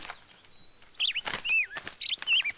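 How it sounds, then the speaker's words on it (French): A nightingale sings in a cartoon, bright warbling whistles and trilled phrases coming in short, separate bursts close by over near silence. "Tu as entendu ce chant? C'est celui du rossignol, pas vrai?"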